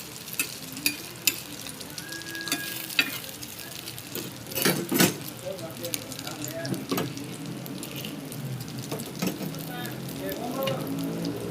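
Egg mixture for mutta kalakki frying and being stirred in a pan, making a steady close sizzle with repeated spatula clinks and scrapes, while a voice speaks intermittently over it.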